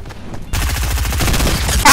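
Rapid SMG fire in Fortnite breaks out after a quieter opening and rattles on as a dense, loud stream of shots, with a sharp burst of noise at the very end.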